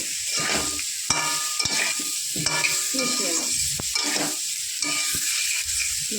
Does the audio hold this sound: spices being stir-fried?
yes